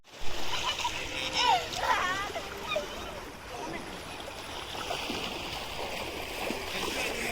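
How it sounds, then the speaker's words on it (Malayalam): Gushing stream water at the foot of a hill rushes and splashes steadily while children bathe and play in it, and their voices and shouts are heard over the water. "മലയുടെ താഴ്വാരത്ത് ഇങ്ങനെ കുത്തി ഒലിക്കുന്ന വെള്ളത്തിൽ കുളിക്കാനും കളിക്കാനും എന്ത് രസമാണല്ലേ"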